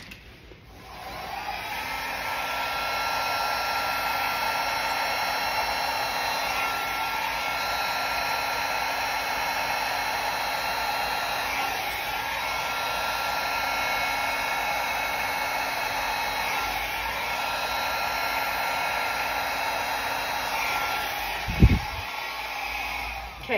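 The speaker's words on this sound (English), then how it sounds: "that's just what you get with a blow dryer" A blow dryer runs steadily on fluid art paint, a loud continuous whooshing hum that fills the clip from start to finish with a short thump near the end.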